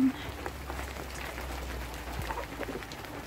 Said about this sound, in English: raining with hailstone.